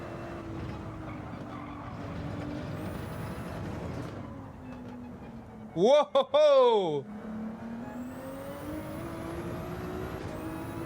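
Ferrari 296 GT3 race car engine in Gran Turismo 7, a steady low drone rising into a sharp loud revving burst with quick gear-change blips mid-clip, then settling back to a low hum, with a brief exclamation from a man.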